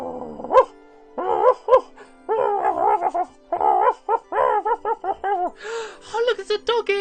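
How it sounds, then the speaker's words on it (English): A tamed dog in a video game yips, whimpers and barks in a quick string of short calls, fairly close and clear, ending in higher-pitched excited yelps. "Oh look, it's a doggy! I've got my first doggy!"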